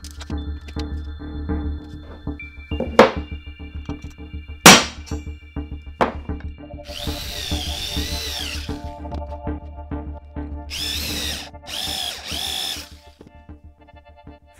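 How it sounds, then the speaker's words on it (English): A twist drill bit bores a screw hole through the webs of a wooden storage piece, enlarging it for a number 10 screw. The power drill runs in several bursts of whirring with short pauses between them, close and moderately loud, and some clanks come before the drilling. "Then we can drill with a bit like this."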